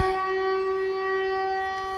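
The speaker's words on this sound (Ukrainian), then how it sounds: "І така неприємна повітряна тривога лунає." An air raid siren sounds over Kharkiv's Saltivka district on a morning in August 2024. It holds a steady, fairly loud wailing tone throughout with no talking.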